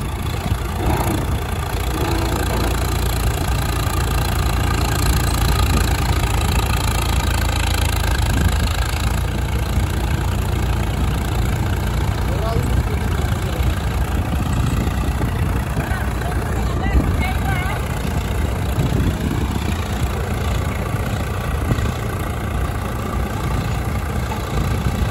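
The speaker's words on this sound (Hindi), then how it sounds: "भैया ट्रैक्टर चढ़ाई में वापिस डलने लगा है।" A Swaraj 744 XT tractor pulling a fully loaded trolley up a steep incline, its engine droning steadily and loudly throughout with a dense, continuous rumble and no pauses.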